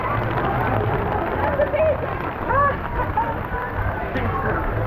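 Steady rain falls at a Six Flags amusement park during a thunderstorm, a constant wash of patter close around, with a crowd murmuring and people talking over it.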